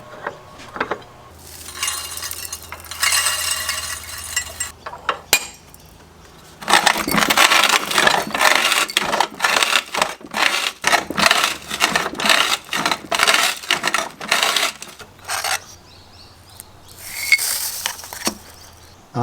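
Small off-grid jaw crusher grinding gold ore down to powder, loud close bursts of rattling, clinking rock being crushed, running in long stretches separated by quieter pauses.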